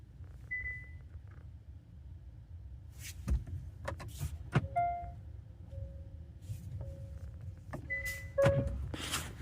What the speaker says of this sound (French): on va essayer de redémarrer le véhicule